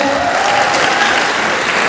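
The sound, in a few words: audience applause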